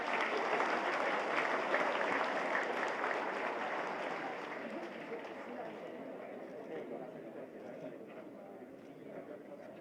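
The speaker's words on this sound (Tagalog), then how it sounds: "You clap your hands." Audience at a Philippine Military Academy commencement exercise applauding, a dense wash of many hands clapping that slowly fades over several seconds, with murmured chatter mixed in.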